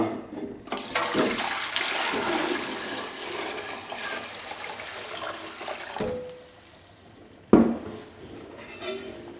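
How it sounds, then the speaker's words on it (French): Liquid diluent warmed to 32 degrees is poured into a 5-litre laboratory beaker for preparing pig insemination doses, a close splashing gush that ends abruptly, followed by a sharp clink of glass and a brief quieter trickle. "Pour faciliter les manipulations, on verse dans un bécher de 5 litres."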